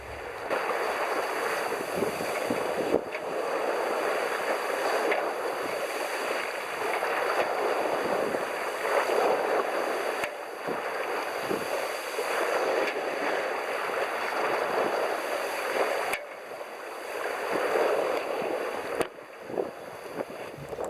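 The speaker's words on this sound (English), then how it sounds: "I can actually feel the power in her bows at the moment as she crunches the water out the way" A vessel's bow pushes hard through the swells of St George's Channel at sea, giving a steady, loud, broadband rush of water and wind that surges and eases throughout, with no talk.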